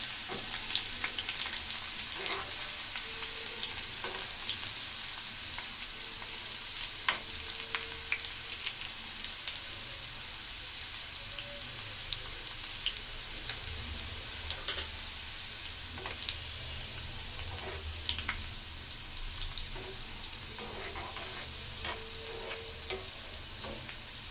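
Garlic frying in oil for a vegetable labra tempering, made without onion in a home kitchen in Dhaka: a soft, steady sizzle with scattered faint ticks and pops, heard alone and fairly quiet.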